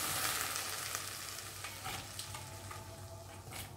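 Potatoes and brinjal fry in a pan for a Kerala mulakushyam vegetable curry, a continuous close sizzle with soft stirring scrapes and crackles and no talking.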